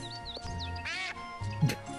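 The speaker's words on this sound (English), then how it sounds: "Look out for the duck." A duck quacks in Escape From Monkey Island, a few short nasal calls over game music and background tones, with a louder burst in the middle.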